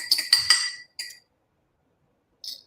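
A few quick metallic clinks of a whisk striking a bowl as eggs are beaten, bunched in a short burst near the start, then a lone clink after a pause. No voices.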